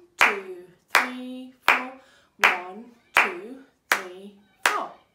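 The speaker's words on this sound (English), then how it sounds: "I'm going to start clapping a steady beat." Bare hands clap a steady beat: seven sharp, evenly spaced claps, close and loud, while a voice counts along in time.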